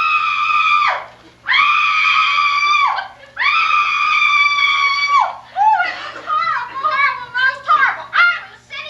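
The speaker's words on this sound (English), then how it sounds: "My screaming frightened it away." A woman screams in long, loud sustained bursts, three in a row, followed by choppier shrieking cries, all close and dominating the scene in a comedy horror film set around a car.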